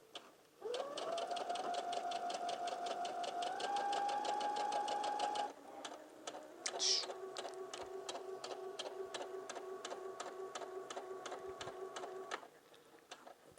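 A sewing machine stitches the hem of a maxi skirt from the right side at a 3.0 mm stitch length. It runs in two long, steady, close-up bursts with a short pause between them, and no one speaks over it.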